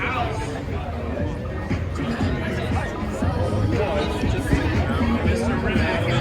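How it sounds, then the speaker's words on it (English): A large crowd chatters in a dense, continuous hubbub at the Monterey Bay car show "Exotics On Broadway", with many overlapping voices close and far. "such a huge crowd here. The crowd keeps growing and growing."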